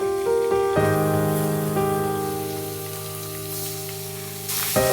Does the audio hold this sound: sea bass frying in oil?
yes